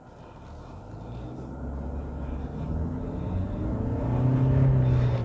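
Kia Seltos 4-cylinder 1.5-litre petrol engine revving up in first gear, a steady low rumble swelling gradually in loudness with rising engine tone toward the end, heard from inside the cabin.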